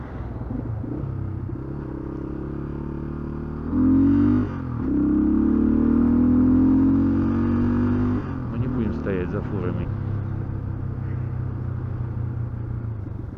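A motorcycle climbing the Krestovy mountain pass road, its engine a continuous close rumble with a rising surge in pitch partway through, mixed with faint clatter.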